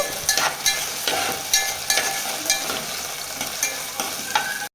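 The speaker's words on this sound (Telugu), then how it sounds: "కొద్దిగా జీలకర్ర వేసుకున్నాము. పచ్చిమిర్చి వేసుకున్నాము. ఇలా కలుపుకోవాలి." Cumin seeds and green chillies fry in hot oil in a pan while a utensil stirs them, giving steady close sizzling broken by repeated scraping strokes, with no talking.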